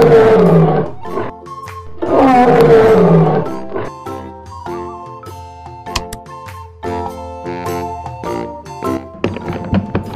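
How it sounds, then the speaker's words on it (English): A cartoon lion in a children's animated show lets out two big roars near the start, followed by a busy mix of bumps, ticks and musical tones. "Lion."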